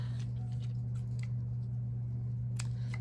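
Scissors snip through ribbon for a 3-D teacup craft, a few quick faint cuts over a steady low hum.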